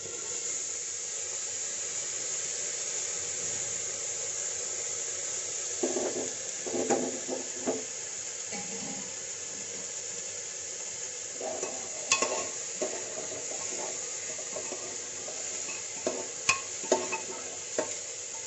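Cooking oil heats in a pan with a steady low hiss, joined now and then by soft crackles and light clinks of a utensil against the cookware.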